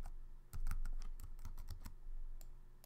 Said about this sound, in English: I'm going to just hit W, A, S, and D on my keyboard